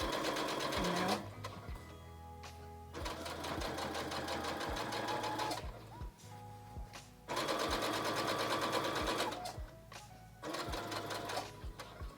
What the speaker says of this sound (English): I'm gonna go ahead and sew all the way down. I go forward and back,